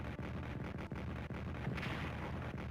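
Artillery fire in the World War 1 strategy game Strategic Command sounds as a string of muffled booms and thuds over a dense rumbling background, with no talking.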